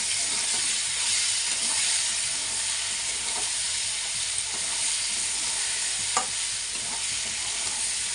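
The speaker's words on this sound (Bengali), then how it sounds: "হলুদ দিয়ে আর একটু ভেজে নেব।" Potatoes and onions fry with turmeric in a pan, giving a steady close sizzle with soft stirring scrapes and an occasional sharper clink, and no talking.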